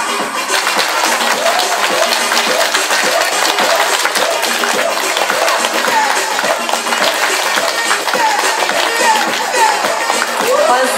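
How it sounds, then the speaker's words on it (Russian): An audience claps for a performing cat catching rings at a show, a loud, dense and continuous round of applause lasting the whole time, with voices mixed in. "За каждое пойманное колечко аплодируем отдельно."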